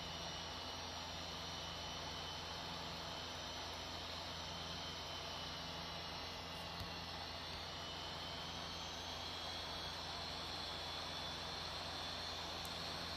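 A Boeing 737 MAX of Air India Express takes off in Real Flight Simulator, heard as a constant, faint, broadband jet-engine roar that holds steady throughout with no talk.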